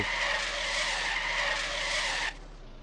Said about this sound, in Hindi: देख रहे हो मैं कहाँ से ड्रिफ्ट मारते हुए हूँ